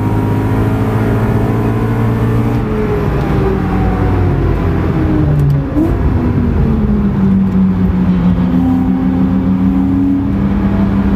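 A BMW M3 V8 accelerating on the Nürburgring, its loud engine note climbing and shifting in pitch through the gears, steady and close, with no voices over it.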